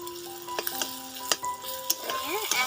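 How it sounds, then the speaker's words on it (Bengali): An egg scrambled and fried in oil in a pan for egg dal tadka, with a soft sizzle under repeated sharp scrapes and taps of a spatula against the pan. "এবার ডিমটা ঝুরু ঝুরু করে নেব"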